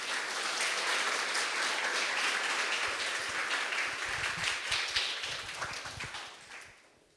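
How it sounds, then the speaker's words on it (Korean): Congregation applauding at a Korean church Sunday service to welcome a guest pastor, a dense sustained burst of clapping that holds steady for several seconds before tapering off near the end. "우리 목사님 모실 때 박수로 우리 환영하도록 하겠습니다."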